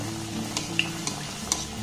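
Palm fruit cakes (taal pitha) sizzle steadily in oil over a low-to-medium gas flame, with a continuous close frying hiss and a few sharp spatters and pops.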